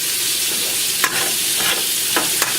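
Meat stirred as it browns in bacon grease in a pan, a steady close sizzle broken by a few sharp scraping strokes of the utensil.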